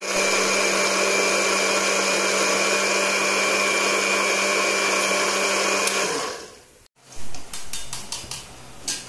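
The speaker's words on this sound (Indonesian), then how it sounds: "Tapi ini kita blender dulu." An electric blender whirs loudly and steadily, grinding spice paste for cassava chips, then cuts off near the end, followed by a few light clinks of kitchenware.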